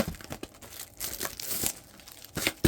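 Plastic wrap is crinkled and torn away from a small Smurfs diamond art canvas, several close, sharp crackling bursts with short quiet gaps between them.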